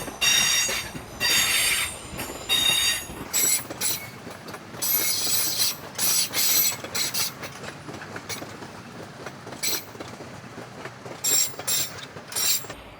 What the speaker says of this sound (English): I'll just wait till the train goes past